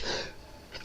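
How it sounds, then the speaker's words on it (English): A single short sneeze, a sharp breathy burst at the start with a softer exhaled tail and a faint second puff near the end, close and alone. "I usually never sneeze while doing these videos."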